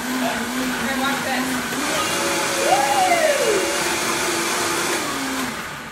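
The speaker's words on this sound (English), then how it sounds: "I'm going to blend this, and then we're going to add in the spinach and the herbs." A Vitamix-style blender runs steadily through green smoothie ingredients with spinach and herbs, a continuous whirring motor drone whose pitch swoops up and back down midway, close and fairly loud throughout.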